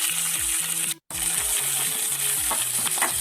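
Small shallots sizzle and sauté in hot oil in a pan as a cooking step for a Kerala kadachakka (breadfruit) curry, with a steady loud frying hiss and a brief pause near the start.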